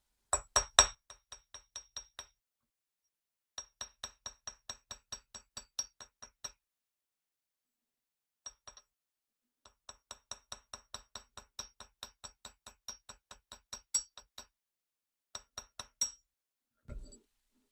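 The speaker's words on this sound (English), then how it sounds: "We just hammer it until we like the look of it." Bursts of sharp metallic taps from a small hammer shaping copper earrings, struck in quick rhythmic runs with short pauses between, close and bright with a ringing edge.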